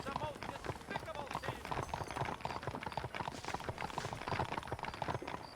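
Horses clip-clop at a steady trot in the Western video game Red Dead Redemption, the hoofbeats fairly close and continuous beneath voices talking throughout.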